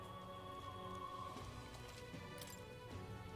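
Steady light rainfall in Metaphor: ReFantazio, a soft continuous patter under quiet background music.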